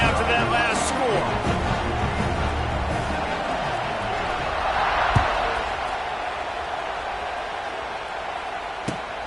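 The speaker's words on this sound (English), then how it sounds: "this crowd is buzzing after that last score" Steady crowd buzz filling a simulated football stadium after a scoring drive, a continuous roar with a brief swell midway, with a few sharp thuds, under commentary.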